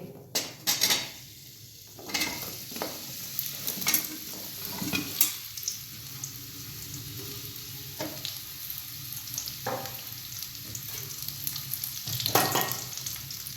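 Dates roasting in ghee in a kadai, with a soft steady sizzle broken by sharp scraping and clanking of a spatula stirring against the metal pan, close and without talk.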